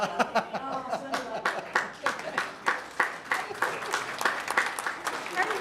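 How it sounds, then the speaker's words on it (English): Scattered, uneven clapping from a small audience at a village board meeting, individual claps standing out over quiet voices and chuckles, fairly faint overall. "Clapping for that."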